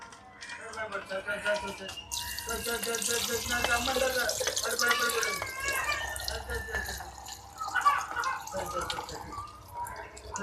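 Cooking oil is poured into a pan while squid rice is being made, a continuous trickling, splashing liquid sound with voices in the background.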